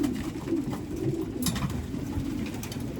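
A racing pigeon coos in low, soft repeated calls close by, with faint background rustling and a few brief higher chirps.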